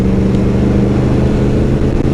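A Yamaha MT10 street motorcycle engine pulls in second gear with a loud, close, continuous droning roar that holds steady throughout.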